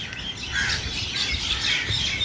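Birds squawk and chirp among date palms at a quiet sandy beach resort in Fujairah, their calls moderately distant and repeated over soft ambient noise.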